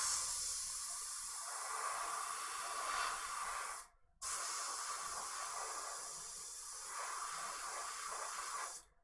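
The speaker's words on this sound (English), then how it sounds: "And the airbrush is working?" An airbrush sprays in a steady, continuous hiss that stops briefly partway through and then resumes at the same even level. Nobody speaks over it.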